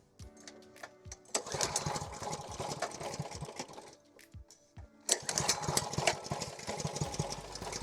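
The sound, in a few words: Ryobi pressure washer engine attempting to start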